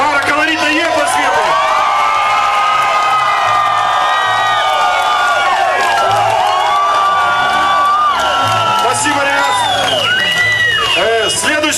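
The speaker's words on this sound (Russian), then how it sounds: "Аплодисмент этому парню." A crowd at a biker rally's embroidered-shirt contest in Uman cheers, whoops and shouts continuously and loudly, with voices rising and falling throughout and an amplified speaker talking over the noise.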